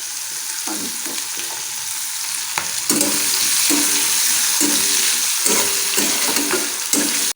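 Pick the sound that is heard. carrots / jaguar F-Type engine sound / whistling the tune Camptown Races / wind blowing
carrots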